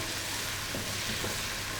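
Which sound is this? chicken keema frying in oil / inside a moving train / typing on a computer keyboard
chicken keema frying in oil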